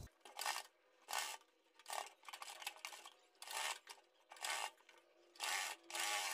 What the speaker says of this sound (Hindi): फिर एक बार इस तरीके से फोल्ड करते हुए किनारे की सिलाई लगाएंगे